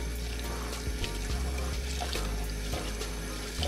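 Rice being washed in water, with a continuous close splashing and running-water wash and occasional sloshing swirls throughout.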